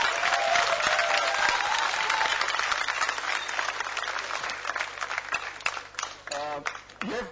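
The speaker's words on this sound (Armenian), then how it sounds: "ծափահարենք կամավորների թիմին" A conference audience at BarCamp applauds the volunteer team, dense clapping loud at first and gradually thinning out, with voices and a speaker talking over the tail end.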